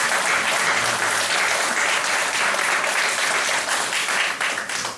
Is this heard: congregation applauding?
yes